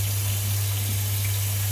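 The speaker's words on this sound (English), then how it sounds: "Take off, strain under cold water." Cold tap water runs steadily over freshly hard-boiled pasta and chopped celery being strained in a sink for a keto pasta salad, a continuous close splashing rush with a low hum beneath and no talk.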